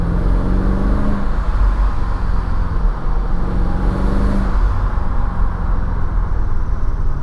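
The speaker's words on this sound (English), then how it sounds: "I don't know if you'll be able to hear that exhaust note." A 2004 Mercedes-Benz CLK500 convertible accelerating in second gear on a road, its engine giving a continuous loud low drone with a rising pitch, heard from inside the car over heavy road and wind noise.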